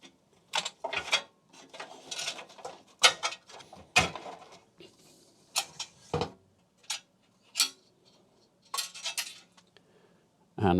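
Loose metal clunks, scrapes and rattling knocks come in irregular bursts as a full height hard drive is worked out of an old computer case held without screws, close and without speech.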